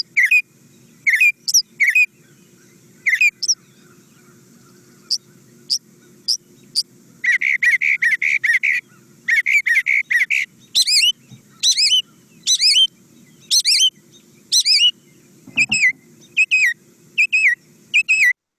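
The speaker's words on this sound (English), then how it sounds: "a northern mockingbird singing right outside of your window" A northern mockingbird sings close by outside a window in varied bursts of whistles, trills and chirps, phrases repeating and changing with short pauses between them.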